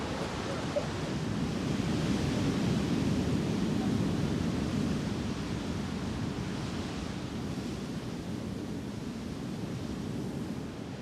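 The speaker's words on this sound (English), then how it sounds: "You have the sound of the waves and the wind." Waves and wind on a beach in the Bissagos Islands make a continuous, even rushing wash, moderately loud and unbroken throughout, with no voices.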